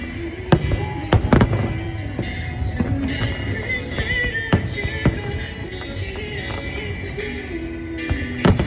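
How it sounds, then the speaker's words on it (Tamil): Fireworks rehearsal for Singapore National Day at Marina Bay, a series of sharp booming bursts and crackles spread irregularly over several seconds, moderately loud against a busy outdoor background. "ஸோ அதுக்கான ரிஹர்சல்லாம் வந்துட்டு இப்போவே ஸ்டார்ட் பண்ணிடுவாங்க. Rehearsal, fire ஒர்க்ஸ்லாம்."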